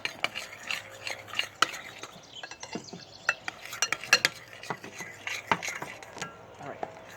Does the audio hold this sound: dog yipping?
no